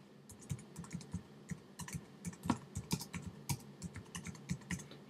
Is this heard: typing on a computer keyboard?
yes